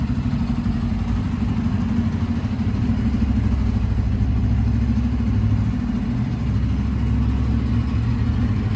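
A motorcycle ridden by a learner putters steadily at low revs close by, its mid-pitched engine chugging evenly with slight rises and dips and some light mechanical clatter.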